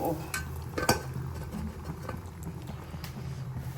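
Beef going into a hot pan for a Kerala-style beef fry, with steady stirring scrapes and clinks over a soft sizzle, close and continuous with a couple of sharper knocks early on.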